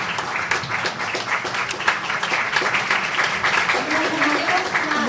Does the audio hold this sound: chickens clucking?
no